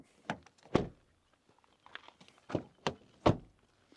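Doors of a 2025 Renault Austral facelift hybrid being shut, several solid close-range thunks with latch clicks, spaced irregularly in a quiet setting.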